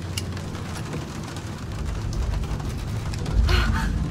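A rainstorm with thunder in the Shadow of the Tomb Raider video game: a steady wash of rain hiss with a deep rumble of thunder swelling near the end. No one speaks.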